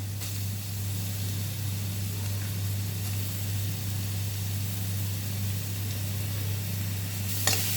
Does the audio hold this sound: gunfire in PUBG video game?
no